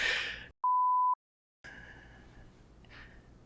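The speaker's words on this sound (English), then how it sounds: "Can we use the beep button?" A single steady electronic censor beep lasting about half a second, cutting sharply into a gap between bursts of muffled talk.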